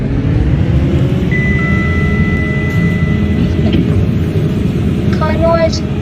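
Service lift car travelling in a shaft at Forum Mall, a continuous loud low mechanical rumble with a thin steady tone and faint clicks near the end, no talking.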